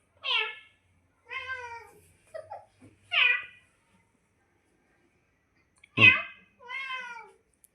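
A house cat meows indoors about six times, close and clear, in short drawn-out calls with a long quiet gap before the last two.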